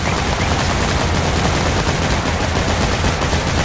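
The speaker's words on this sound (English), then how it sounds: "Opening fire." Loud, continuous burst of rapid automatic gunfire in a video game battle, dense and unbroken for a few seconds with no talking.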